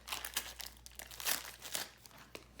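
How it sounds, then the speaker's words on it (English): Crinkly handling of a roll of 3D foam tape at a papercraft table, close-up bursts of crackling and rustling plastic in short irregular clusters, quiet overall. "I'm gonna get my 3D foam tape,"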